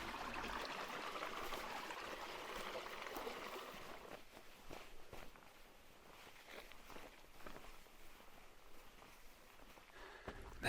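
A creek flows beside a hiking trail on Upper Hannels Spur. Its soft, steady water hiss is clearest at the start, then gives way to quiet footsteps and rustling as the walker moves on, all at low volume.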